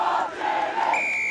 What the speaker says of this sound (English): That charge from Ivans has sparked the SEDBERGH crowd